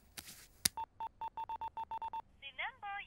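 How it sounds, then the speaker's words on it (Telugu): A telephone keypad is dialed in a Telugu film scene: about a dozen crisp, evenly spaced beeps follow a couple of clicks, then a warbling ring tone comes through the handset, with brief voices in the background. "అరే వాడికి ఫోన్ చేయరా."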